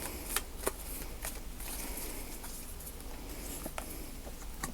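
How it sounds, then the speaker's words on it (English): Tarot cards being shuffled close by, a soft continuous riffling with a few sharper flicks and taps, quiet and without speech. "One more shuffle."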